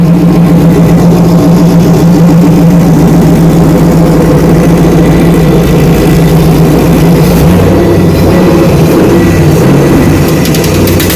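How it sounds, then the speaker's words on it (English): An LS swap engine with FiTech fuel injection idles in a 1946 Chevy truck on its first start, a loud, close, steady rumbling idle that shifts slightly in tone near the end. "Listen to that baby idle."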